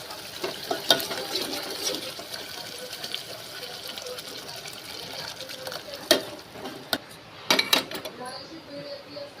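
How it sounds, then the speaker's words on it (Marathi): Lentil water pours and splashes into a pan of roasted spice paste, with clinks of utensils against metal and a few sharp knocks near the end. "डाळीचं पाणी टाकू"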